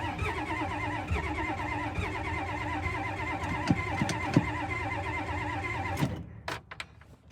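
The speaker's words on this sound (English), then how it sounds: "it probably doesn't start good because I got it hot" A 1996 Ford crew cab four-wheel-drive truck with a swapped-in 7.3 diesel cranks with a steady rhythmic churn for several seconds, then catches and fires before settling, loud and close with no talk.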